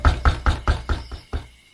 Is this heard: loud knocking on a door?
yes